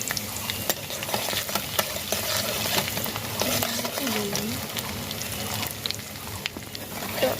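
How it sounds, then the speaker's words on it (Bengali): Garlic fries in oil on a stove for a jujube pickle, giving a steady close sizzle broken by scraping stirs, with faint voices in the background. "তারপর হচ্ছে চুলার উপরে রসুন দেওয়া হলো"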